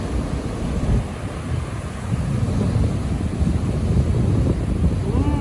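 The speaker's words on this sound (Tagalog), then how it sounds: "Yung waves talagang galit." Rough ocean waves crash and churn at St Augustine, Florida, a loud, roaring low rumble of surf mixed with heavy wind buffeting the microphone, continuous with surging swells.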